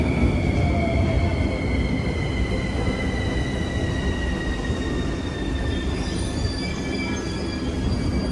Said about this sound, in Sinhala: මේ ඉන්නේ මෙට්‍රෝ එක.